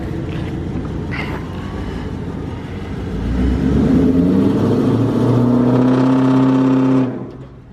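Car engine revving hard during a burnout, a steady loud roar with rising harmonic pitch that swells around the third second, holds high and drops off abruptly near the end, with no talk over it.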